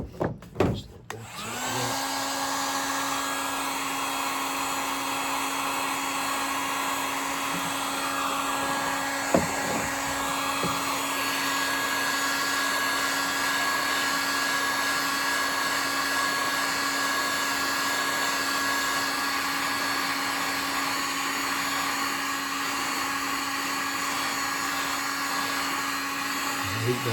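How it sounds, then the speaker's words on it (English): A heat gun blows hot air over a Filson bush hat while it is re-sealed, a steady close whirring roar with a high whine that runs without a break from start to finish. "The heat gun does get hot, so you got to keep it moving on it."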